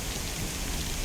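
Steady, dense rain falls in the DayZ survival game, a loud even hiss of drops on surfaces filling the whole moment with no voices.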